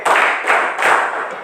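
Children clap their hands together in a chant, three bursts of claps in quick rhythmic succession, fairly loud and close, with no talking.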